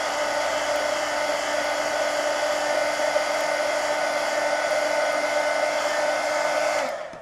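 A hair dryer blows steadily on a page, a loud even whooshing hum that holds for several seconds before winding down and switching off at the end.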